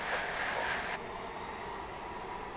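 A British Airways jet at DFW International Airport, heard as a steady, fairly distant engine roar that stays even throughout.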